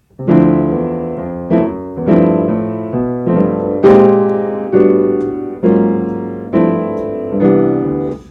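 Keyboard chords played one after another, about a dozen sustained sus 13th voicings shifting chromatically by small steps, each struck and left to ring and decay.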